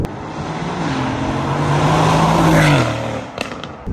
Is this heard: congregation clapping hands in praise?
no